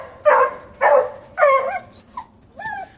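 Beagle puppies whimper and bark in a string of short, close, high-pitched yips and whines, several bursts spaced across a few seconds with no talk over them.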